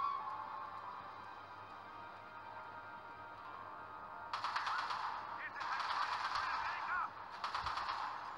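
Gunfire in the game Uncharted: Golden Abyss, heard as rapid automatic bursts in three clusters after a quieter stretch of droning ambience, loud and close, with no talking.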